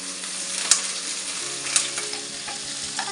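Shallots, green chillies and curry leaves frying in a pan, a steady loud sizzle with a few sharp pops and a faint stirring scrape, no voices over it.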